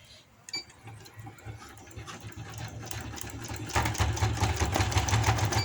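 A sewing machine stitches the seams of palazzo pants, starting with scattered clicks and then settling into a fast, steady mechanical whirr that grows louder and continuous over the last seconds.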